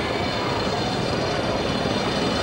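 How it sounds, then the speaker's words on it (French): A helicopter carries Ayrton Senna away after his crash on 1 May 1994, heard as a loud, steady, close whirring drone with no break. "l'hélicoptère"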